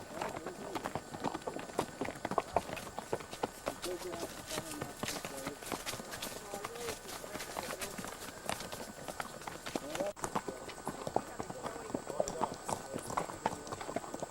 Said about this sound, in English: A little bumpy because I'm riding a horse, but you get the idea.